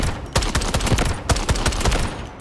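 Evenly paced single shots from an SR25 DMR rifle in the shooter game Delta Force, a dozen or so sharp, loud reports in quick succession.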